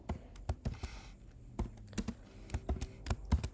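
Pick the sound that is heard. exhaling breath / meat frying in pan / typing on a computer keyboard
typing on a computer keyboard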